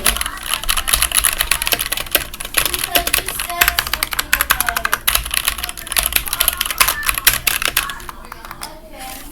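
Rapid, continuous clatter of keys on a new computer keyboard during a typing test, dense irregular clicks filling the whole stretch up close, with a voice faintly behind.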